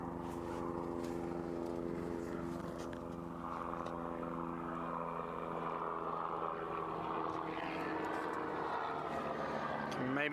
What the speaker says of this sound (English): Maybe just hear a helicopter flying over us.